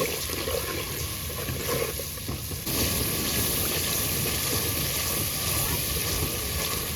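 Water pours steadily into a cooking pan with a continuous splashing rush, fairly close, after a quieter moment with faint background noise.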